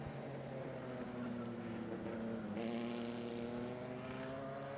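A 1955 Elva Mark 1 race car on a circuit drones past with a steady, buzzing engine note that shifts slightly in pitch midway, heard from a moderate distance without talk.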